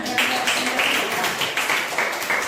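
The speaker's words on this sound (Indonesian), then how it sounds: "berikan tepuk tangan dulu temannya" Brief applause from a classroom of students for a classmate after a presentation, a dense patter of many hands clapping close by, steady for a couple of seconds.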